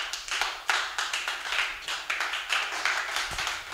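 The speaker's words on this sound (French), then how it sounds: "Applaudissons pour la gloire de Dieu" A church congregation claps in a steady, rhythmic beat, sharp hand claps repeating roughly every quarter second, close and fairly loud, with no voices over them.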